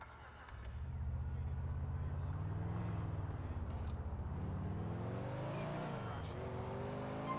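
A car is driven through the city streets of Grand Theft Auto 4: a steady engine drone rises and falls with acceleration, and a pitch sweep late on suggests revving or a gear change, with no voices.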